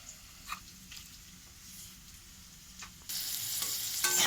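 Potatoes fry in a pan with quiet scattered sizzle and a few spatula taps, then the hiss jumps louder and brighter for the last second.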